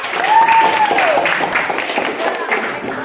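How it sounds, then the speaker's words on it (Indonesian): Applause from a classroom of students for a student group after a static-electricity experiment, a dense, steady patter of clapping lasting about three seconds with voices mixed in. "Oke, kasih tepuk tangan untuk kelompok A."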